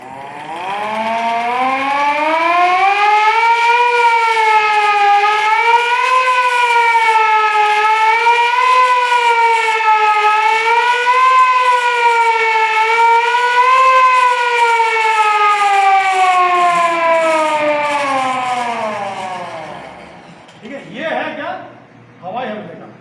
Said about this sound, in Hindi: सायरन बज गया, सुनो अभी क्या कहने वाला है सायरन